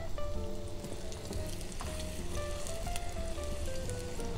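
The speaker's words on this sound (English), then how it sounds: "Nice sizzle." Vegetables sizzle steadily in a medium-hot pan with a little vegetable oil, a continuous close crackle and hiss that holds level throughout with no talk over it.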